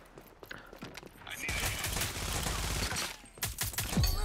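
Rapid bursts of automatic gunfire from a 3v3 respawn video game, loud and continuous for a few seconds, with excited player voices before and after.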